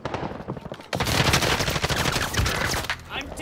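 Gunfire in the video game Call of Duty: Modern Warfare, with a dense, loud burst of rapid shots starting after a brief quieter moment and continuing nearly to the end, a voice faintly audible beneath.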